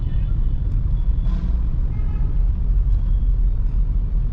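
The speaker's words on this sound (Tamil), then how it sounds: "டிராஃபிக் பார், எவ்வளோ வண்டிங்க போகிறேன்." Busy city road traffic in Bengaluru with cars and buses, heard from inside a Nissan Magnite Turbo CVT as a steady low rumble of engines and tires, with a faint brief hiss or horn now and then.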